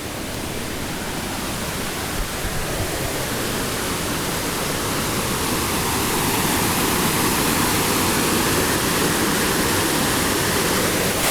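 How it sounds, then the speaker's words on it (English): A giant waterfall roars steadily, a broad dense rush of falling water that swells slightly louder as it nears, with no voices. "If it sounds like there's a giant waterfall there, that's because there is one."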